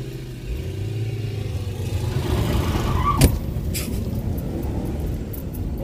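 BMW E39 540i V8 heard from inside as it accelerates hard, engine note climbing steadily toward the rev limiter under road and tire noise, with a sharp clatter midway and continued droning afterward.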